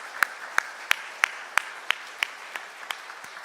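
A church congregation at a Sunday service claps in unison for the choir and string ensemble, sharp evenly spaced beats roughly three per second that slowly soften toward the end.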